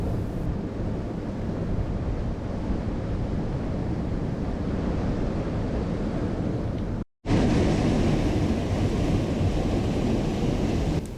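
Dolan Falls on the Devil's River pours in a dense, steady roar of rushing water, close and loud, with wind buffeting the microphone and one brief dropout partway through.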